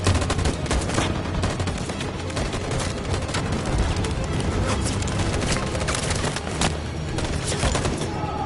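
A sustained volley of gunfire in a console video game: dense, continuous rapid shots and booms throughout, loud and close, with some speech faintly underneath.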